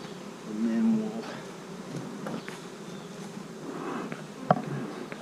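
Bees buzz around an open beehive, a faint steady hum of many insects close by, with soft handling knocks and rustles mixed in.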